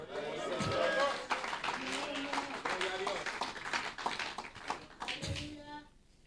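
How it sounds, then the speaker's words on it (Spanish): A church congregation applauds, a dense patter of many hands clapping at moderate loudness, mixed with voices and fading out toward the end. "yo quiero que usted aplauda a Jesús"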